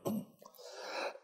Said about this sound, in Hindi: मुझे खांसी आ रही है